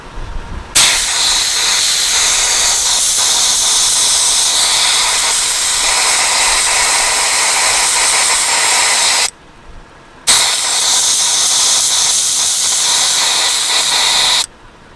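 Compressed air hisses loudly and steadily out of car tires through an Indeflate deflator, a bright sustained rush that stops for about a second midway before resuming, then cuts off.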